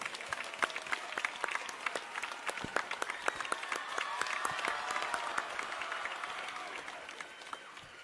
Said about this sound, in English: let's all give him a big applause and welcome.